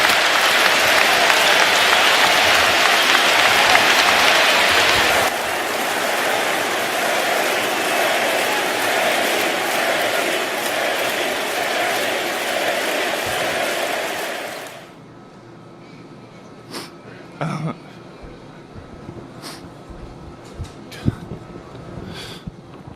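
A basketball arena crowd applauds an injured player during the NBA Finals, loud sustained clapping and cheering that drops in level partway through, then fades to scattered claps and arena noise.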